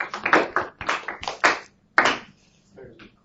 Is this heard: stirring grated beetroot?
no